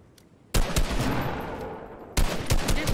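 Video game gunfire in two loud bursts: a sustained volley of rapid shots after a short quiet start, then a second burst near the end, with no talk over it.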